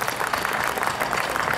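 Dense, continuous applause from an evening event audience, many hands clapping together at close range with no voices on top.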